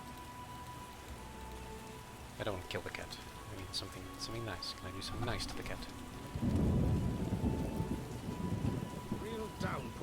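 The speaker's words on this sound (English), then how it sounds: "Real downpour." Steady heavy rain with rumbling thunder in The Witcher video game, a dense hiss throughout and a deeper roll swelling in the second half, with someone talking over it.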